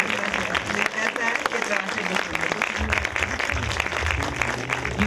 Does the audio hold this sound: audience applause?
yes